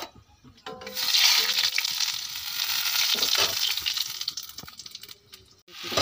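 Raw banana and potato curry fries in a pan after tempering, a loud close sizzle rising abruptly and holding, with a few stirring knocks before it fades near the end.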